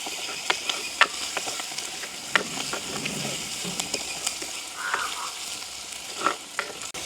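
Chopped tomatoes sautéing in a tempering for lobster curry in an outdoor village kitchen: a steady sizzle broken by scattered sharp clinks and scrapes of a stirring spoon, close by, without speech.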